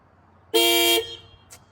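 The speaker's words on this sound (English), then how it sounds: "Let's see if the security alarm still goes off." An Infiniti G20 with an SR20 engine sounds its security alarm as a single short, loud, blaring horn blast of about half a second, followed by a faint brief chirp.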